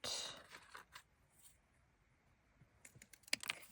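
Scissors snip paper for small bottle shelves, short close crisp cuts in a quiet room, with a cluster of snips at the start and again near the end.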